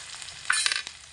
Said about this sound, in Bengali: পেঁয়াজ কাঁচা লঙ্কা দিয়ে হালকা একটু রসুনের সঙ্গে নাড়াচাড়া করে মিশিয়ে নিলাম।